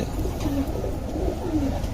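Home-kept pigeons give soft, low cooing, two short rolling phrases close up over a constant hum of background noise.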